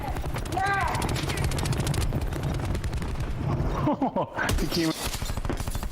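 Gunshots fired at the player in a shooter video game, a loud continuous rattle of rapid shots mixed with a speaking voice and other game noise, with a brief break near the end.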